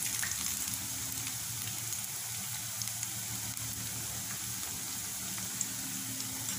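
Onion pakoras deep-frying in hot oil while being stirred, giving a steady, dense crackling sizzle that holds evenly throughout with no voices.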